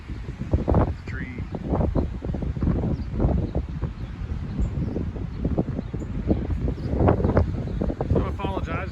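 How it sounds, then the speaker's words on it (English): Strong gusty wind roars across the microphone on top of a mountain, a heavy rumbling buffet that runs the whole time, with someone talking over it. "I'm way up on the very top of a mountain, so it's like crazy wind up here"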